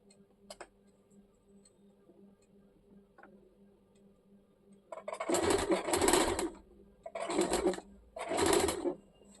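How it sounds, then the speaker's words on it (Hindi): A sewing machine stitches a waistband onto a salwar, with three loud close bursts of whirring after a quiet stretch of faint ticks, and a dove coos softly in the background. "फिर इसमें सिलाई डालेंगे"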